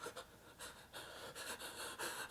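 Rapid, panting breaths repeat in quick bursts, a puppeteer's voice imitating fast, frightened breathing up close.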